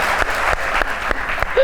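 A studio audience claps in a burst of dense, continuous applause that holds at an even level for the whole stretch.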